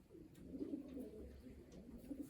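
Racing pigeons cooing at the loft trap, soft low throaty coos repeating a few times close by, with faint background noise and no clear talk.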